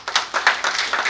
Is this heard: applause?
yes